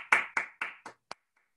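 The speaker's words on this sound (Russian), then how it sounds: "давайте скажем Володе спасибо и похлопаем" Small audience at a game design talk claps briefly: four or five distinct, fairly close hand claps in a quick sparse burst that tapers off into silence.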